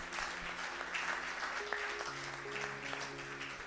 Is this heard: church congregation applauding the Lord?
yes